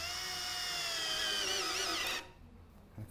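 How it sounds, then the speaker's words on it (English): A power drill bores into a wooden chair leg during captain's chair construction, giving a steady high whine for about two seconds at close range before it stops and leaves quiet room tone with a small knock at the end. "start drilling."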